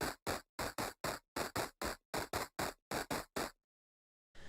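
A saturated, downsampled wet synth layer with a crispy, crackly high end stutters in a chopped run of short, hard-edged bursts. It goes silent briefly before one last burst starts.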